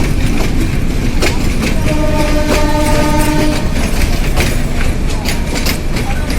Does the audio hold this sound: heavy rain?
no